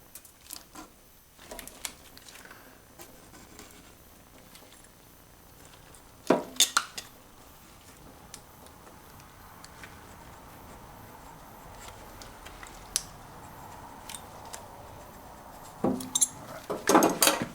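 Carbon is scraped from the piston ring grooves of a 460 engine with a broken old ring, giving faint scratchy rasps and a few sharp metallic clicks, close but quiet.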